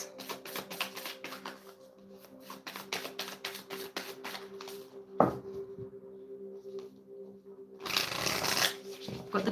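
Tarot cards being shuffled and drawn for a three-card pull, a run of crisp riffling taps and flicks close by, pausing briefly before a louder burst of card rustling near the end, with faint talk in the background.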